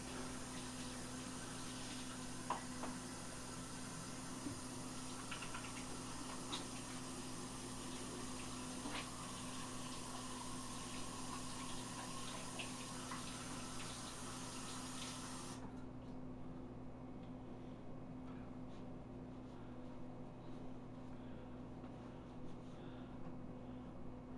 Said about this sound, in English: I'm going to go ahead and wash my hands off.